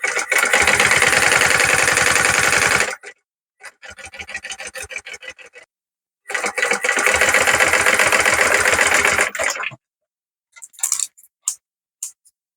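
A sewing machine stitches along the edge of a pocket on a small zippered pouch in bursts of rapid, loud mechanical rattling, separated by short pauses and a few brief clicks near the end.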